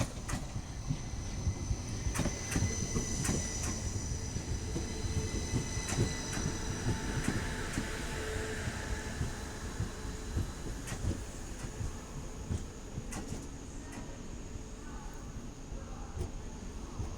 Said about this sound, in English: coming in is a Hull train service from London King's Cross to Hull